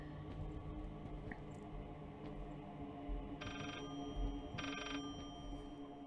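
An old telephone bell rings twice in short bursts in the horror game Layers of Fear, fairly faint and set back beneath a dense, rumbling ambient drone.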